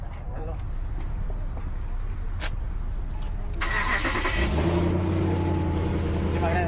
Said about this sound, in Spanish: ¿Pueden prender el carro?